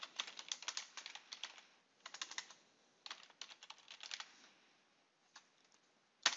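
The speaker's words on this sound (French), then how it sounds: "je tape le titre de mon document" Typing on a computer keyboard, quick bursts of close, crisp key clicks with short pauses between runs and a final louder keystroke, no talk.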